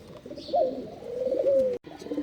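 A pet pigeon that has just laid an egg coos on a rooftop at dawn, one loud close drawn-out coo rising and falling, then a short gap and another coo starting.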